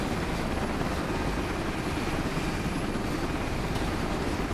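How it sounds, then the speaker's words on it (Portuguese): A helicopter's rotor and engine in the video game Contagion drone steadily and loudly throughout, a constant dense roar with no pauses or voices. "Já chamou o helicóptero e ele vai chegar em breve."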